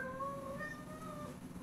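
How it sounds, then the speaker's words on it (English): A pet cat squeals faintly in the background, a thin wavering meow-like cry that slides in pitch over a quiet room. "You don't know if you can hear my cat squealing in the background."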